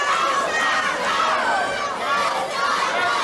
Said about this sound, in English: the crowd picking up the chant right now, "Go, Scott, go,"